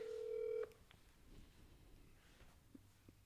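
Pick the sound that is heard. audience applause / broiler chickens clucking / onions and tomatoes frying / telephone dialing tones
telephone dialing tones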